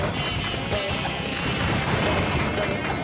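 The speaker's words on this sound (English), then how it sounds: "we'll keep on smashing to take out all of these tikis" Tikis being smashed in the SpongeBob SquarePants: Battle for Bikini Bottom video game, dense crashing and breaking impacts packed into a loud, busy wash of game sound.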